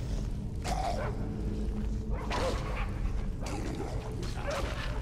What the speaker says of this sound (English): that dog just scared the shit out of me